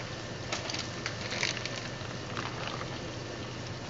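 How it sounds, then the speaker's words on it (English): Chopped beef steak meat hitting a hot pan, a steady close sizzle and hiss with faint crackles and no talking. "just pour the meat in here like so"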